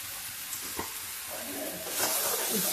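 Spices frying in a pan for a curry with brinjal, giving a soft, close sizzle with a couple of faint stirring knocks and a brief louder hiss near the end. The sound is quiet overall, with no speech.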